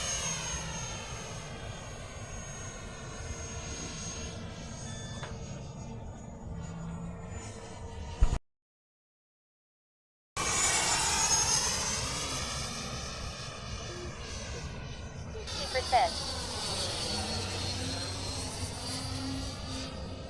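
Blue Angels jet aircraft flying over Fritz Field, a distant, faint, sustained engine roar with sweeping pitch changes, cutting out briefly before returning as the plane passes.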